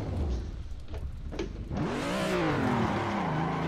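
Simulated car drifting in Assetto Corsa on Xbox One, a brief lull with faint clicks, then a revving engine with wavering pitch sliding up and down and tire noise, steady and loud.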